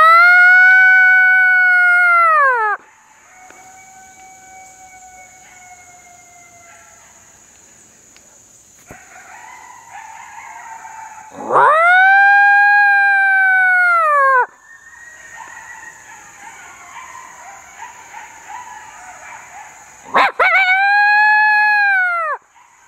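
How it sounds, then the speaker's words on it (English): An Icotec electronic game caller plays loud drawn-out coyote howls outdoors during a hunt, three rising-and-falling howl sequences separated by quieter stretches with faint distant yips and a steady high tone. "Tori goes into some MFK howls on the Icotec to simulate more coyotes have moved"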